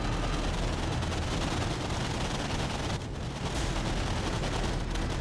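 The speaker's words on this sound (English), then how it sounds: "The machine gun fire off of this thing right now." Anti-aircraft machine guns on a warship in World of Warships fire a dense, continuous rattle, with only a brief dip around the middle.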